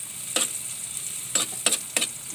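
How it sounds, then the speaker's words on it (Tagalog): Onions sauté in a pan for garlic crab, a soft continuous sizzle punctuated by four quick scraping stirs, close and without talk. "Sauteed na siya. Sauteed na sa ano."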